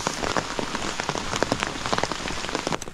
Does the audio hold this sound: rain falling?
yes